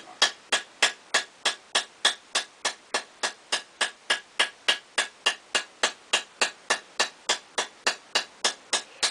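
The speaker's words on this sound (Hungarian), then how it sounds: "És akkor itt a kalapálás mellett már alakítod is, hogy úgy domborodjon, ahogy igen, kell." Metal is hammered and shaped over a small wooden stump, a steady run of about thirty sharp, evenly spaced ringing blows, close and clear with no talking.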